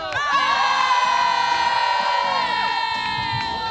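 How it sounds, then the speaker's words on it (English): Hallam supporters at a women's rugby union varsity match cheer and whoop loudly as a crowd, with high shouts and screams layered over a sustained roar that carries through the whole moment. "Hallam fans, give us a cheer."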